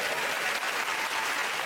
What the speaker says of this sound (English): Why are you applauding?